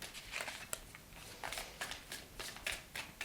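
Tarot cards are handled and pulled from a deck during a pick-a-card reading, a quiet close-up run of papery shuffling and flicking sounds with no talking.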